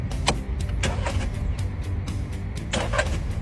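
An overheating car that won't start is cranked, giving a low mechanical churning with a few sharp clicks and thuds recurring across a few seconds, never catching into a running engine.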